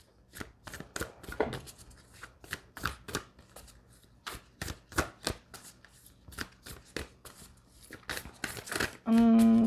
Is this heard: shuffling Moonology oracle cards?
yes